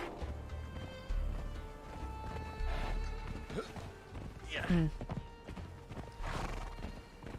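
Horse hooves clip-clop in the game Conan Exiles, a few soft irregular beats mixed with whinnies and thuds, under ongoing conversation.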